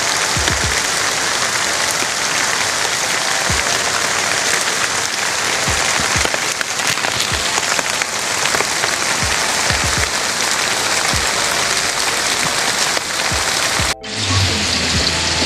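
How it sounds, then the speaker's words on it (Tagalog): Heavy rain pours down continuously in a loud, dense hiss with scattered heavier drips and splats, staying constant before the sound shifts abruptly near the end. "nikusog na gid ang ulan mga kandusanan"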